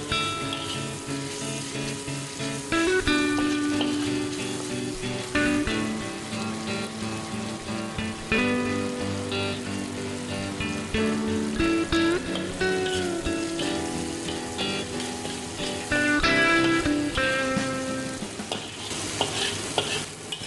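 Salted shark fish fried and stirred in a pan, a loud continuous sizzle broken by repeated scraping and clinking of a spatula against metal, close up and without talking.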